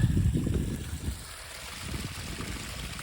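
Water from a small mountain spring and waterfall in the La Madre Mountains wilderness flows and trickles steadily, a low outdoor rush with no talking.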